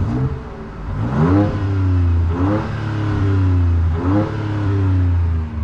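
A 2023 Ford Ranger Raptor V6 in normal mode is revved repeatedly, with several rising and falling blips over a steady deep baritone idle, heard close with no talk.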